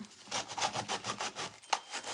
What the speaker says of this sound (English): I'm going to hit this with the little sanding block